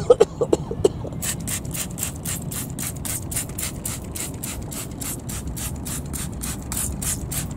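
After a few sharp clicks, a spray bottle fires a long, steady series of quick hissing bursts of wheel cleaner onto a car wheel in an even rhythm, close by.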